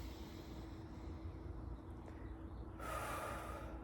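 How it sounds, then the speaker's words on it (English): A single deep breath drawn during a guided meditation, a soft, airy rush that swells near the end, close and alone with no talking. "Take a breath"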